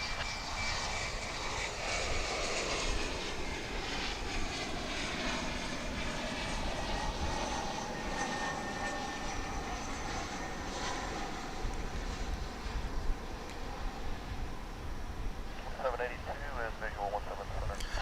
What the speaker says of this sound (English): American Airlines 3262 coming in from San Angelo, Texas after a 39-minute flight on a Mitsubishi 701 ER